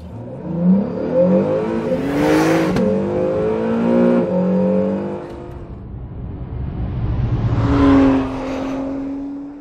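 An Acura with SH-AWD launches hard and accelerates, its engine climbing loudly through the revs in one long pull, then a second rising burst. The engine is close by and there is no talk.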